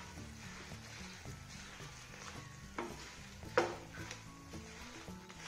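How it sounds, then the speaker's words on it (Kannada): Red chillies fry in oil over a low flame, a soft steady sizzle with occasional stirring scrapes and a clink of a utensil against the pan, fairly quiet and without speech. "ಲೋ ಫ್ಲೇಮಲ್ಲೇ ಇಟ್ಕೊಂಡು ಮೆಣಸಿನಕಾಯಿ ಎಲ್ಲ ಚೆನ್ನಾಗಿ ಕರಿಯೋಣ."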